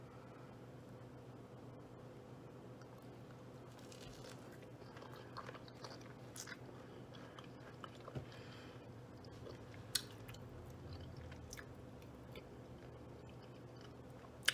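Chewing Hot Cheetos-coated fried pickles cooked in an air fryer, with soft, quiet crunching and mouth sounds up close over a low background hum and a few sharp little clicks.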